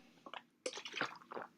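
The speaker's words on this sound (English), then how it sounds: "take a little drink of water here." A person takes a drink of water close to the microphone: soft wet sips and a swallow, faint and brief, with small squishy mouth sounds.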